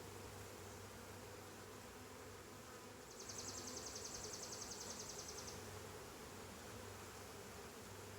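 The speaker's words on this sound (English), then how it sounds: "these bees are twitchy, really twitchy." Honey bees buzzing at an open hive during a split inspection, a steady hum from the colony with a louder, higher whine rising close by for a couple of seconds in the middle.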